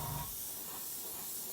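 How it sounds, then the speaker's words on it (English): Paint sprays onto a Takom 1/35 scale MkIV model tank as a steady, close, airy hiss that holds evenly throughout with no pauses. "Let's spray that in there"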